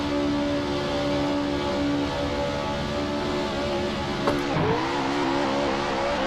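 Shelby Cobra engine in the Assetto Corsa racing game, idling steadily with a low drone at the drag strip start line, then a brief rev and surge toward the end, loud and without talk.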